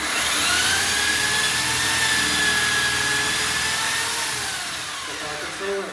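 A power drill bores a hole while an entrance door lock is being fitted, its motor whining steadily and fairly loud for several seconds before easing off near the end.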